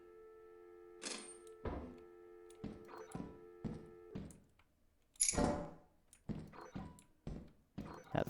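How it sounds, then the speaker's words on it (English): A Thumper monster in the video game Lethal Company thumps in a series of quiet, irregular heavy impacts, some in quick pairs, spread across the stretch with near silence in between. "That thumping sound was a thumper."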